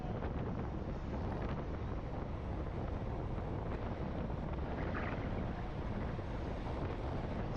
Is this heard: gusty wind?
yes